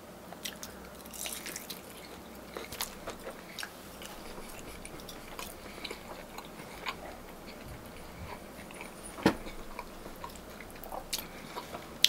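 Someone bites into sweet and spicy Korean fried chicken wings and chews, producing quiet scattered crunchy clicks and moist chewing sounds close to the mic with no speech.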